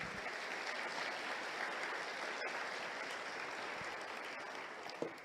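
A church congregation applauds during a sermon, a steady, even wash of many hands clapping that holds at a constant level throughout, fairly soft and slightly distant, with no voices over it.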